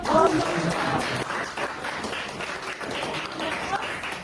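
Audience applause at an Indonesian teacher-training presentation, a steady wash of many hands clapping throughout, moderately loud with no talk over it.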